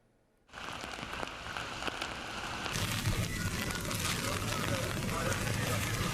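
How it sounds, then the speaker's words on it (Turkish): After a brief quiet moment, a dense hiss of heavy rain in an Istanbul storm starts up and grows louder, pouring steadily without a break. "İstanbul'da sağanak kısa sürede fırtınaya dönüştü."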